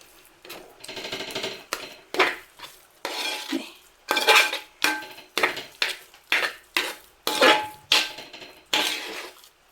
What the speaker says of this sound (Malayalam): ഇളക്കിയെടുക്കാം.